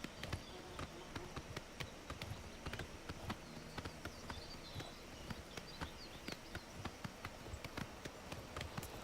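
Horse hooves clip-clop at a steady trotting rhythm in Elder Scrolls: Oblivion Remastered, a continuous run of crisp, evenly spaced hoof strikes on the ground with no talking over them.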